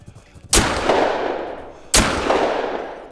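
Two loud, close 9.3x74R rifle gunshots in the hunting game theHunter: Call of the Wild, each a sharp crack with a long rolling echo, fired about a second and a half apart.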